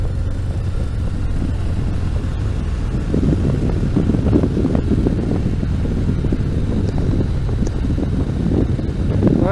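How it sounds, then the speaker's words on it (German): Loud, steady wind roar buffeting a motorcyclist's helmet while riding near Hohensyburg castle toward Dortmund, a dense low rumble that swells slightly midway and continues unbroken throughout, with no voices. "weil der Wind ist ganz schön laut."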